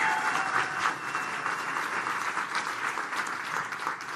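A conference audience at a startup demo day claps steadily and warmly for an all-women cohort, a dense, even wash of applause that holds for several seconds without a break.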